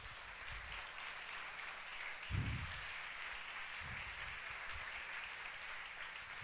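A church audience at a Sunday youth revival service claps steadily together, fairly faint and distant, with a few low thumps scattered through the sustained applause.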